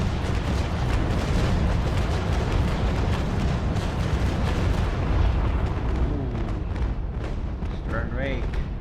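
Rolling cannon broadside from HMS Victory in the Naval Action naval combat game, a dense continuous rumble of heavy guns firing in quick succession, loud and close, with voices talking over it.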